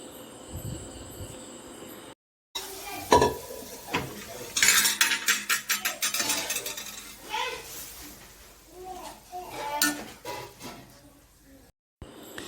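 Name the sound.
boiled chickpeas poured into curry pan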